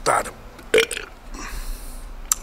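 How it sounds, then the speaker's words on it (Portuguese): A loud burp after drinking sparkling water erupts near the start, followed by a second short belch, with a faint breathy sound at the end. "Que é para arrotar."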